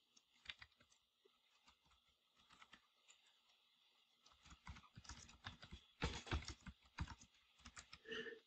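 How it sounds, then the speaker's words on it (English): Typing on a computer keyboard, close and quiet, starting with scattered clicks and building into quicker, denser bursts of keystrokes toward the end, with no one talking. "start typing."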